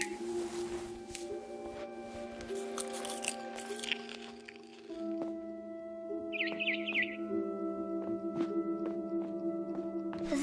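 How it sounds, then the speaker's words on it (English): Brief chirps of a barn swallow outside a window in the video game What Remains of Edith Finch, a small burst of calls midway over a steady, humming game soundscape, with no talking. "Then I heard chirping outside my window."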